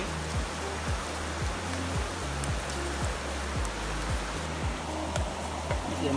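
Food dropped into a pot of hot oil over an outdoor fire by a river in Jamaica, a dense steady crackling sizzle with rapid popping, fairly close and continuous.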